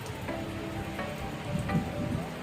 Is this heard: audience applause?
no